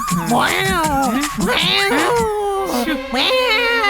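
A person imitates a cat, drawing out several wavering, whiny meows one after another, close and loud.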